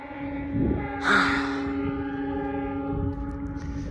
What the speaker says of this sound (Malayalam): ട്രെയിൻ പോകുന്നത്